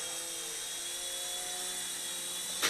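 A small Sky Star Lego police RC helicopter whines steadily with a high, buzzing rotor and motor tone as it flies in to land, ending with a brief bump at touchdown.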